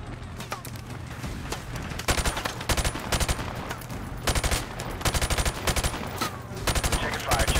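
Gunfire in Call of Duty 4: Modern Warfare, loud rapid automatic bursts repeating every second or so over a constant roar of battle noise, close and dense.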